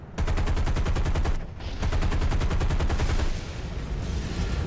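Aircraft guns fire at ground targets in War Thunder, two long, loud bursts of rapid machine-gun fire split by a brief pause, with no talk.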